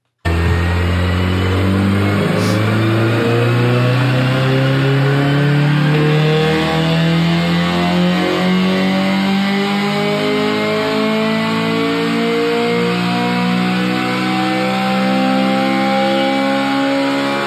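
A Honda Civic Si engine revs hard and continuously, its pitch climbing steadily in a loud, sustained rising drone with no talk over it.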